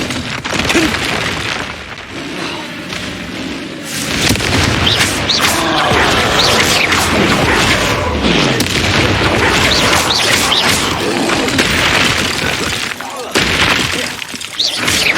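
A spell crackles and bursts through Hogwarts Legacy combat, loud and dense with shattering, booming magical impacts layered over continuous battle noise.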